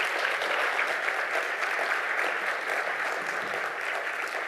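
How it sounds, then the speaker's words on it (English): Audience applause at a conference on a digital future, steady sustained clapping from a large crowd filling the room at a constant level, with no voices standing out. "Please give them a round of applause."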